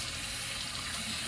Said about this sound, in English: So I'm just going to rinse it out with some hot water